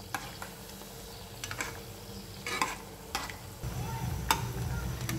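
Aloo matar cutlets fry in a pan with a low, steady sizzle, broken by a few sharp clicks and scrapes as they are turned; the frying grows slightly louder near the end.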